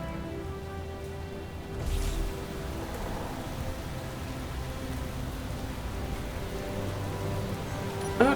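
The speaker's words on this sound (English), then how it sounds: "I'm gonna get out of the rain and go sit in my truck." Steady patter of rain falling in a video game, soft and even, with a few brief louder bumps and a faint sustained tone underneath, no talking.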